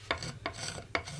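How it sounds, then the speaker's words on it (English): A blade scrapes lacquer off a guitar body down to the sanding sealer. Three rhythmic, raspy strokes, close and moderately loud, each with a sharp start and a gritty hiss. "I'm just trying to basically remove the lacquer and get down to the sanding sealer under, and just scrape away"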